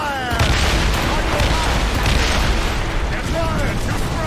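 Ship cannons in Assassin's Creed Rogue fire in a rapid, booming naval barrage, with dense overlapping blasts and battle noise throughout and shouted commands among the crew.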